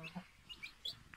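Baby chicks in a brooder pen after moving from an incubator give a few faint, scattered high peeps over soft background noise.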